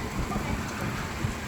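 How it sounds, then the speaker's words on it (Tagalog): Steady rain falling outdoors, a dense continuous hiss of drops on surfaces with no distinct pauses, fairly loud and close throughout. "Ayan, ganyan po ang patak ng ulan."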